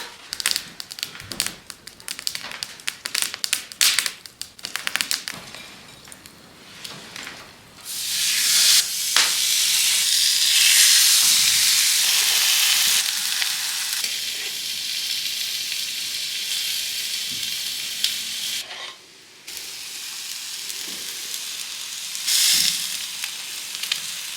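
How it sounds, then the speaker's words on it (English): A ribeye steak sears on top of a seasoned cast iron wood stove, first a few close taps and knocks, then a loud, steady hiss and crackle that rises, fades slightly and carries on to the end. "While the ribeye was searing on the back middle grate"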